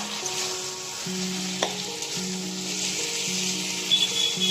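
Mutton curry for an Odia-style mutton jhola sizzles and fries uncovered in a pan over a medium flame, a steady close hiss with a few soft stirring clinks and no voices.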